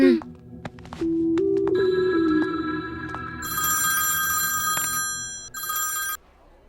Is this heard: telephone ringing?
yes